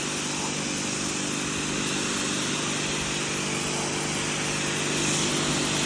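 Small pressure washer blasting dirt out of car carpet, a steady loud motorized whine with a hissing spray, running continuously without pause.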